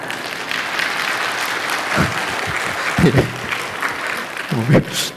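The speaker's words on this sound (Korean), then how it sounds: "박수 칠 상황이 아닌데" Applause from a church congregation during a pastor's Saturday dawn prayer sermon, a steady even patter of many hands filling the room, with a few brief spoken bits breaking through near the end.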